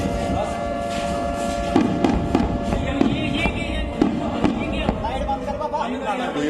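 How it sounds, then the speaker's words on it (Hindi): Air defence intercepts an attack over Udhampur, with a series of sharp bursts and thuds popping at irregular intervals through background noise and murmuring voices. "वहां से आ रहे धमाकों की आवाजें"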